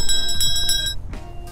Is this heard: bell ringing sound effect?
yes